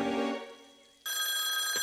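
A cartoon telephone bell rings loudly in two bursts, a sustained bright metallic ring that fades, then a sharper, louder ring cut off abruptly, with no talk over it.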